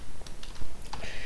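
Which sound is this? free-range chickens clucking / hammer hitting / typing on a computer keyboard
typing on a computer keyboard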